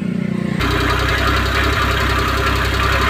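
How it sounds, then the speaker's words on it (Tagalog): An engine starts abruptly after a moment of quieter idling, then runs loud and steady with a continuous mechanical rumble and rhythmic knocking. "inaandar natin guys yung makina"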